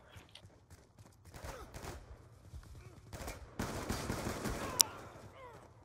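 Gunfire bursts from Call of Duty Black Ops 2 co-op play, scattered shots building to a dense loud volley near the end with a sharp crack, mixed with game noise.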